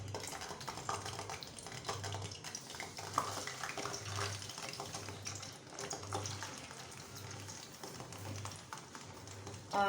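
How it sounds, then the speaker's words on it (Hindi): Dhaba-style aloo tikki frying in hot oil, likely mustard oil. A steady, close hiss of bubbling runs throughout, with a low hum pulsing underneath and no talking. "ऑयल गर्म हो गया और अब अपनी आलू टिक्की डालना शुरू करें।"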